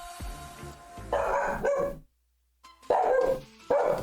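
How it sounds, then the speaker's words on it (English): A dog barks several times in short, loud bursts nearby, with a brief silence between the groups of barks. "What are you barking at, Jax?"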